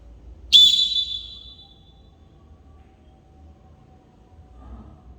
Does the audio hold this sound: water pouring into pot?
no